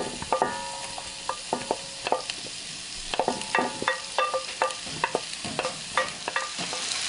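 Chopped onion stirred in a pan over medium-high heat, a steady sizzle broken by frequent sharp clinks and scrapes of the utensil against the pan in an uneven rhythm, close and fairly quiet.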